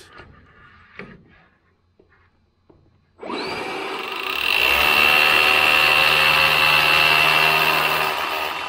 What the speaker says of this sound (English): locating the spot where I want to drill the hole where I'm gonna put the concrete anchor